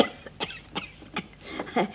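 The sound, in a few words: woman coughing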